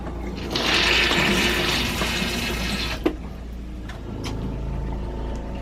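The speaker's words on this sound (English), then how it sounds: "just you flush the toilet like you normally would." An RV toilet on a pressurized water system flushes with a loud rushing swirl of water, followed by a click and a lower steady hum as the pump runs to refill the water.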